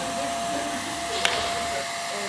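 A vacuum cleaner runs steadily close by, a loud constant whine and roar with a faint tone and a brief click partway through, and no talk over it.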